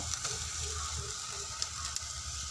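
Onion, fenugreek and crushed garlic-ginger paste sautéing in a pan, making a continuous even sizzle with faint stirring scrapes and occasional soft ticks.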